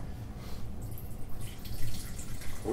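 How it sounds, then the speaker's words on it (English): Wine pours through an Anakin aerator into a glass, a soft continuous trickling and bubbling stream that stays faint and close, with no talking. "let's try this out of the aerator"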